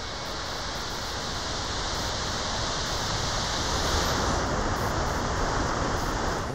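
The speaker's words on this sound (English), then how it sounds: "The closer you get to the waterfall, the louder it becomes." Roaring waterfall at an ice climbing area, a loud steady rush of falling water that fills the whole space and never lets up, with no voices.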